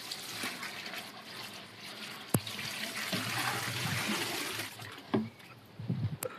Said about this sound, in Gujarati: જોઈ શકો છો પાણી કેવું આવે છે અહીંયા